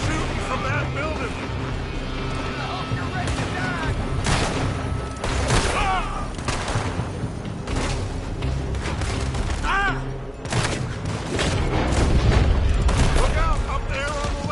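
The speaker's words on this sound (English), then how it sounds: "They're shooting from that building." Gunfire crackles from a building in Red Dead Redemption, dense bursts of shots and booms scattered across the whole stretch alongside game noise, with a voice talking over the fighting.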